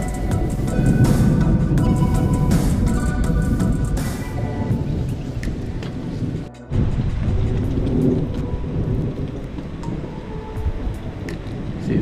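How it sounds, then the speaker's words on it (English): A thunderstorm with heavy rain at sea: loud, continuous rain roar with rumbling thunder, a brief dip in the middle, then sustained downpour. "Stormy weather, we're coming in from the sea."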